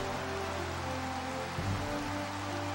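Steady rain hiss from a rainy football stadium in the PS2 game NCAA Football 11, Sam Houston State Bearcats versus Wofford Terriers, a continuous broadband wash with low tonal hum underneath, no talk over it.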